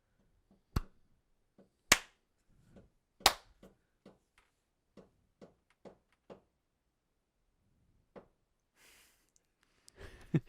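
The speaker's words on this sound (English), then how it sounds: "Maybe do like a fat clap" Several sharp, loud hand claps ring out in a small podcast room, spaced unevenly with softer taps and claps between, close to the microphones.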